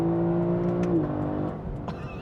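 A 2023 Lexus LC500 engine revs hard from inside the car, a loud, throaty roar that holds steady and then drops in pitch as the revs fall away in a short burst.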